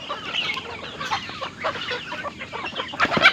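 Chickens clucking close by, a run of short, overlapping calls with a louder squawk near the end.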